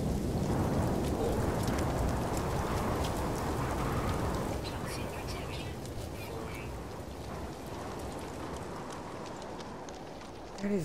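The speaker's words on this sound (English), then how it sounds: "It's odd, it rains over there, not in here." Steady rain falls in the video game No Man's Sky, a dense, pattering hiss that runs throughout at moderate loudness, easing slightly toward the end.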